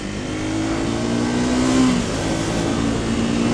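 A Triumph Thruxton 400, a 400 cc retro cafe racer motorcycle, accelerates with a steady engine drone whose pitch climbs briefly, then holds, close and continuous.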